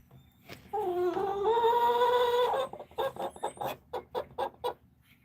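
A Jersey Giant hen at a nesting box gives a long, drawn-out call followed by a run of short, rhythmic clucks, close and clear with no talk over it.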